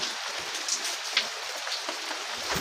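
Steady rain falls outdoors at a work site, a continuous hissing patter with occasional nearer drops, fairly quiet and with no talking.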